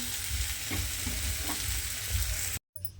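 A radish fry hisses steadily in a pan as it is stirred near the end of cooking, a dense, even sizzle up close with a few soft stirring touches, then cutting off abruptly.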